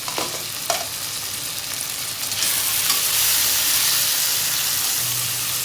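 Green chillies fry in hot oil and are stirred in a pan, with a close, steady sizzle, a few scraping clinks of a utensil, and the hiss growing louder after the first couple of seconds.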